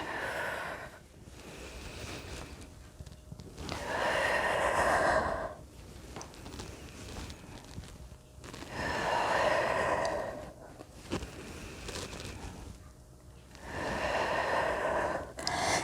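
Slow, deep breathing during a yoga practice, long audible inhales and exhales alternating in a steady rhythm, close and soft with no talk.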